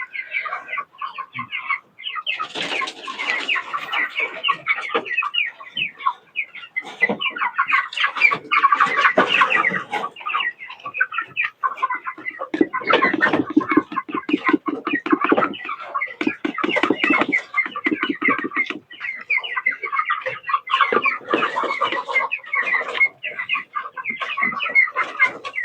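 Flock of chickens at feeding time clucking and squawking busily and close by, in dense overlapping bursts that run nearly without pause.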